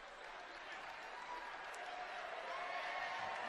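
Basketball crowd at a Lafayette vs. Quinnipiac college game applauding a senior player, a steady, fairly distant patter of clapping and cheers that swells slightly near the end.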